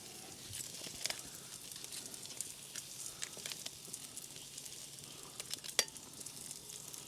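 Garlic butter with herbs basted onto lobster tails crackles and sizzles steadily on a Santa Maria style grill, a continuous quiet frying hiss with scattered sharper pops, no talking.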